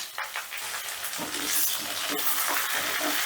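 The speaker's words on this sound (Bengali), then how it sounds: "এবারে পেঁয়াজটাকে আমি হালকা লাল করে ভেজে নেব" Chopped onion, from one large onion, frying in hot oil over medium heat in a pan, a steady loud hiss and sizzle that holds throughout with slight surges.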